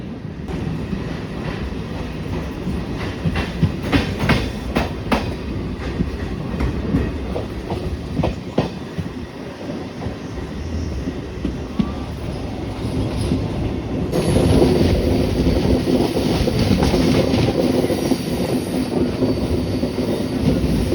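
A passenger train from Bengaluru to Mysuru rolls along with steady wheel rumble, rhythmic clickety-clack over rail joints and occasional squeals, heard from aboard and growing louder toward the end, with no talk.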